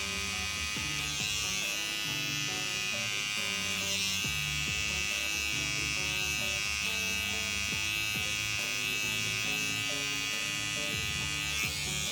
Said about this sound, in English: So the first thing I do is create myself a line so I've got something to shave up to.